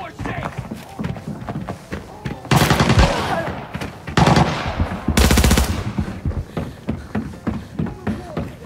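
PUBG gunfire comes in two loud automatic bursts, each lasting roughly a second, with lighter footstep-like thuds between them. Players talk over the game audio.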